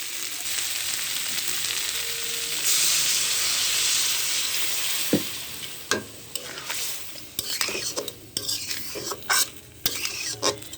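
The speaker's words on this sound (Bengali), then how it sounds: "কষানো হয়ে গেছে এর পরিমাণ মতো জল দেবো" Water is poured into a sizzling crab curry in a pan, giving a loud hiss and burst of steam that fades into softer bubbling. Several sharp spoon clinks follow as the curry is stirred, with no talking.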